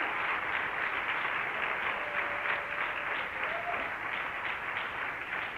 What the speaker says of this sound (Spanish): Dele un aplauso, pero déselo con todo su corazón.